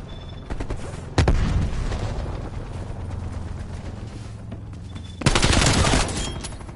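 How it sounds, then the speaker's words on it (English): In Call of Duty Cold War, a frag grenade is thrown and blows up amid gunfire: a loud close blast, a stretch of rumbling combat noise, then a second heavy burst of explosive fire, with no talking. "Throwing frag."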